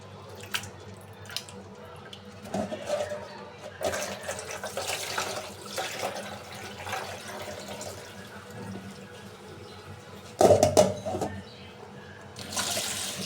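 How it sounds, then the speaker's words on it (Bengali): Rice being washed under a running kitchen tap before cooking khichuri with lentils: gentle, uneven splashing and trickling water with a louder, sloshing burst near the end. "চাউলটা আমি ধুয়ে নিছি, এখন ভালোভাবে ধুয়ে নিছি একটা।"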